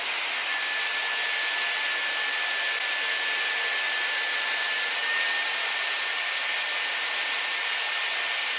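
A Dyson Airwrap hair styler, fitted with small 1.2 barrels, blows air on dry hair as a loud, constant, unbroken whoosh with a thin steady whine, heard alone throughout.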